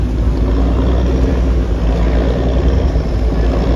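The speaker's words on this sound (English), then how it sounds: "And you can see this catamaran coming." A catamaran ferry carrying vehicles and people nears the jetty at Fort Kochi in Kerala, its engines giving a loud, steady low rumble with no voices.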